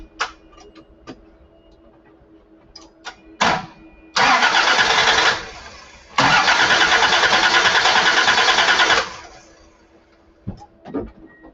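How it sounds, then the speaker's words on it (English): A car engine with an intermittent starter fault makes a few sharp starter clicks, then two long, loud cranking bursts of a few seconds each that fail to catch, followed by more clicks. "You could hear that a couple of times it cranked and a couple of times it just clicked."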